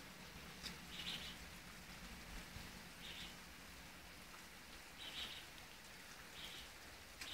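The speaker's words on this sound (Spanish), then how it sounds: "desde las 4 de la madrugada ha comenzado a llover" Heavy rain pours steadily on the island of La Palma during a storm, a dense continuous hiss of drops on surfaces with a few faint bird chirps breaking through in the distance.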